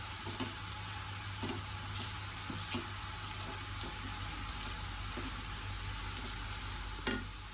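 Potato curry being stirred and fried in a pan after turmeric and chili powder go in, with a steady sizzle throughout, scattered scraping stirs of the spoon, and a sharper clink near the end.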